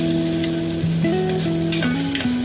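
Spices tempering in hot oil for khichdi give a loud, continuous sizzle and crackle, close up with no voices over it, while steady tonal hums shift in pitch beneath the frying.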